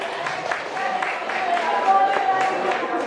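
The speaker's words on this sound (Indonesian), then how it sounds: "Tepuk tangan buat Pak Reza." Applause for Pak Reza at a school teacher-program gathering, a crowd clapping steadily and fairly close, with voices mixed in.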